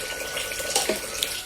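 Water runs from a tap into a bowl of rice being washed, a close, steady splashing hiss with a couple of brief clinks, heard alone.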